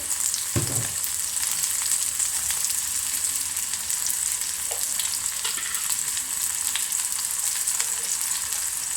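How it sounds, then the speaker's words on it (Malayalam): Onions fry in a hot pan with a steady, close sizzle and crackle, with a brief clatter of stirring near the start. "ഉള്ളി ഒന്ന് മുരിയട്ടെ."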